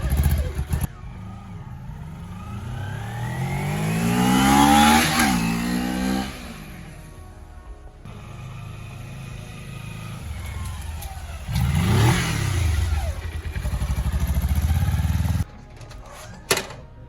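A 2008 Kawasaki Ninja 250 with a cheap aftermarket exhaust revs up and down in several bursts, the pitch sweeping high then dropping, loud and close, with a steady idle between revs.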